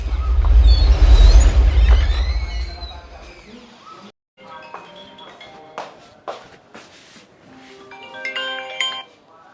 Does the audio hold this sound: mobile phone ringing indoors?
yes